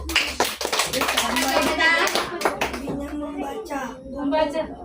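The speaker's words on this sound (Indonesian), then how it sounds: "Tepuk tangan dulu untuk Bayu." Children at a reading and literacy session in a community library in Medan Denai clap for a classmate, a burst of brisk close clapping in the first two seconds, followed by children's and adults' voices talking.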